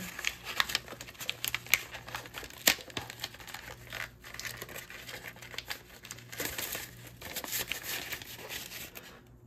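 Brown paper packing crinkles and crackles continuously up close, with dense bursts of rustling and crumpling as the paper is shifted around a box, no voices present.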